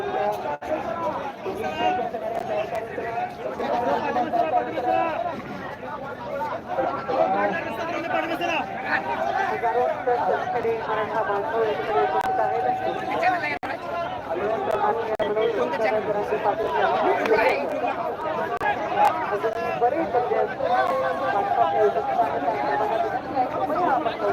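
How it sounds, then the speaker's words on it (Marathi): A large crowd gathers in heavy rain at a Maratha reservation rally in Sangli, producing a steady, dense babble of many voices that stays loud and continuous throughout, with no single speaker standing out. "प्रचंड पावसात सुद्धा मोठी गर्दी सांगलीमध्ये आहे"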